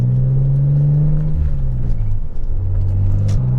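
A wide body Nissan 300ZX drives along, its engine a steady low rumble with a slight rise in pitch partway through, heard close and loud with no talking.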